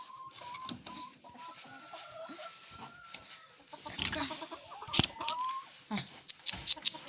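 Laying hens cluck and chatter nearby in uneven bursts, with a few sharper calls and some background rustling, getting busier toward the end.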